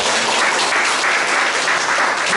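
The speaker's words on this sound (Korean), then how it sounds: "박수 한번 주세요." A seated audience at a community development academy session in Korea breaks into loud, dense clapping, close and continuous with no pauses throughout.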